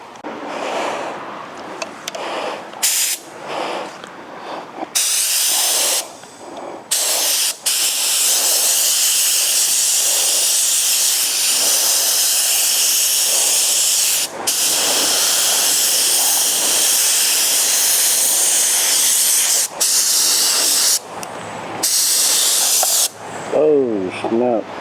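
An LVLP spray gun with a 1.5 tip, running at about 30 psi, sprays chameleon paint in long, loud, steady hissing bursts broken by short pauses.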